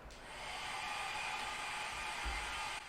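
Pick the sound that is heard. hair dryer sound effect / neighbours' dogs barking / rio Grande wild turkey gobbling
hair dryer sound effect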